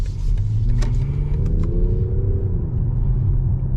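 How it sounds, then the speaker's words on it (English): A 2025 BMW 750e's engine hums and rises in sport mode in a low, steady rev, smooth and fairly muffled inside the cabin, with no talking. "the engine livens up completely"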